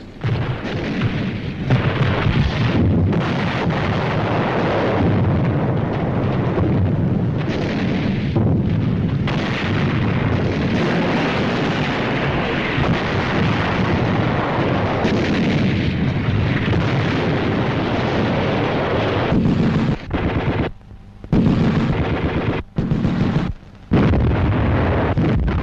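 Allied artillery cannons firing in a nearing battle, a continuous rumbling barrage of deep booms and explosions that rolls on for the whole stretch, thinning into a few separate blasts near the end.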